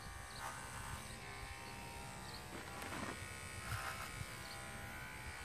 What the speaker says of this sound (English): Then I'm gonna shave downwards on the top